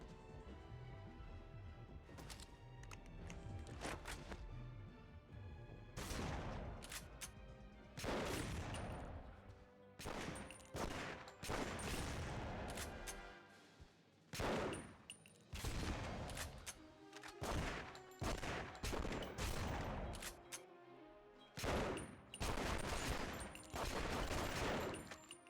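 Dual-wielded shotguns in a video game boss fight, blasting in rapid, irregular bursts of loud, sharp shots separated by brief gaps, with other game noise between them.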